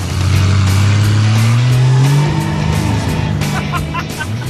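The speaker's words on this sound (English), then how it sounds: "Alex is test driving her car" A hot rod on a test drive, its engine revving loud and close with a rising, sweeping pitch as it accelerates, then settling into a steady drone.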